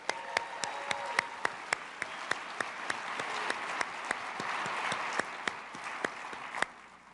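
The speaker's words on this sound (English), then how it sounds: "let's have a round of applause for industry titan John Shalom" Audience applause at a CES 2024 keynote, a steady broadband wash of many hands clapping, fairly loud and sustained, with a few sharper individual claps standing out near the front.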